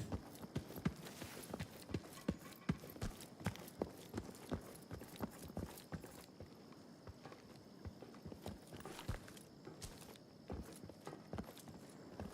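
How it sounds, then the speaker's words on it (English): Metal footsteps in the tactical shooter Incursion Red River clank in a quick, steady rhythm, faint and somewhat distant, continuing through the whole stretch. "hear metal footsteps"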